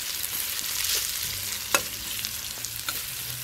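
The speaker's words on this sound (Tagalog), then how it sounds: "Gisa lang po natin sila." Ginger and vegetables sautéing in a pan for a Filipino blue crab and coconut milk dish, a steady crackling sizzle broken by the occasional sharp scrape or clack of the stirring utensil, with no talk.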